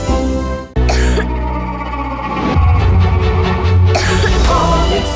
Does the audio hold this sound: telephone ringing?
no